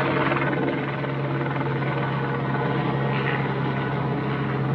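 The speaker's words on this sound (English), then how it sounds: "got a helicopter after us here" A helicopter flies low over a muddy mountain-bike trail near an airport, its steady, loud rotor drone filling the whole stretch with no break.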